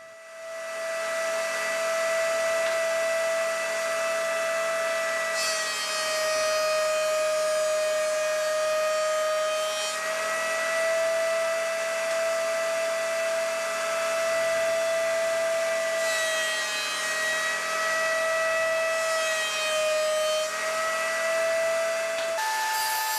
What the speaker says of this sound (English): And now through the thickness planer, I'll run them through and bring them down to the 3/4 thickness that I need.